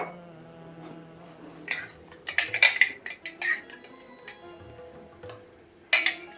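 A spoon stirs chili paste into thick sambar in a pot, giving sharp metallic scrapes and clinks against the vessel in irregular clusters, loud and close, with quiet pauses between strokes.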